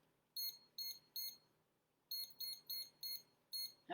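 A kitchen timer set during a popsicle and grilled fruit pizza demo beeps in short, sharp bursts, three in quick succession and then a longer run after a pause, fairly faint and with no talk.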